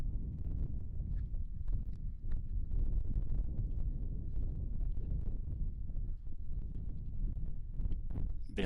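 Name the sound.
wind blowing at Colorado National Monument overlook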